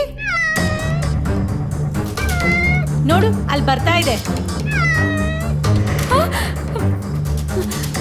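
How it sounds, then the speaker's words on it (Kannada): A cat meows repeatedly in drawn-out, rising and falling cries close by, while a person talks over and between the calls indoors. "ಬೆಕ್ಕು ಕಣೆ."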